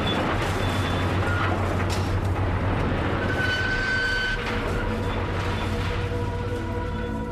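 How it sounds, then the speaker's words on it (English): A crushed automobile is torn apart in an industrial shredder: a loud, continuous grinding and rumbling roar with metallic scraping and clanks that never lets up. "that's the sound of a crushed automobile being shredded"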